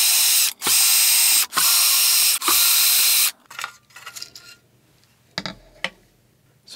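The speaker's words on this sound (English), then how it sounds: "Now we're going to unscrew the case." A hand tool spins out the screws on the case of an AC-powered effects pedal, giving four loud bursts of ratcheting clicks in steady succession, followed by fainter scattered taps and handling noises.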